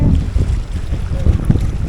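Loud, blustery 25-knot wind buffets the microphone on a sailboat in Alaska's Inside Passage, with a constant low roar and gusts, water faintly audible beneath.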